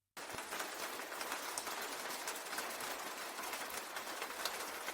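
Steady rain falling in San Diego in December, a dense, even patter of drops hitting surfaces, continuous and fairly close, with no voices over it.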